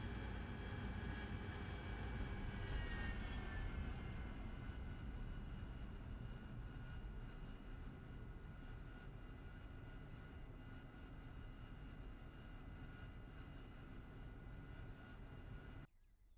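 Harrier jet engine in the DCS flight simulator game, a loud, steady roar with a high whine riding on top, running continuously without pause before cutting off abruptly at the very end.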